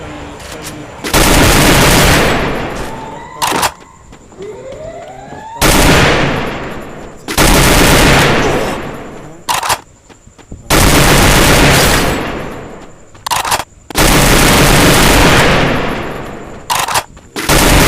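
Gunfire in the mobile battle game Free Fire, several long, very loud bursts of rapid automatic shots separated by short pauses, with brief single cracks between them and some talking underneath.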